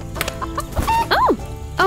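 Short, close, clear clucks from a chicken at a coop beside a Playmobil tiny house, a few sharp calls including one rising-and-falling squawk.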